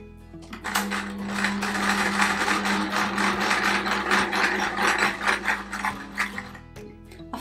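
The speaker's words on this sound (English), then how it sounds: "I'm now going to change my cotton to grey and get cracking and start stitching Miss Moppet's body pieces." A sewing machine stitches a patchwork quilt appliqué in grey cotton, running steadily for several seconds with a rapid mechanical clatter and a low motor hum, close and alone.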